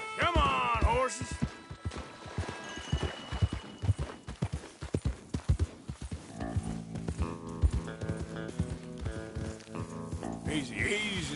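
Rhythmic hoofbeats of several horses galloping together in the video game Red Dead Redemption 2 clatter through the clip under bursts of voices and a shrill, animated backdrop.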